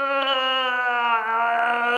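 A Chewbacca mask's built-in voice box lets out a Wookiee roar, a close, loud, steady tonal growl with many stacked harmonics held for about two seconds, with no talk.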